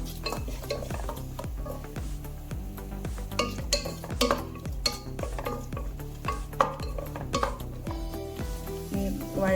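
Chopped onion and three green chilies sauté in a pan for ghee rice, with steady stirring scrapes, a faint sizzle and occasional clinks of a spoon against the pot, no voices.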